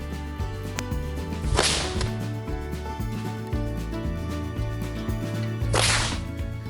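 A bullock whip made of cowhide gives two sharp, loud cracks several seconds apart, each a sudden explosive snap over a steady low droning background.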